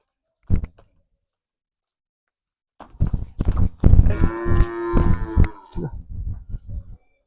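Cattle at a village home in Punjab where heifers and a buffalo are up for sale: one long, loud moo rises amid close shuffling and handling noises, with a few brief voices around it.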